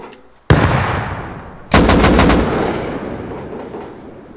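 Two loud, close bursts of automatic gunfire during a player-versus-player raid in the survival game Rust: the first bang hits hard, then a rapid rattling volley follows and echoes away, with no talking.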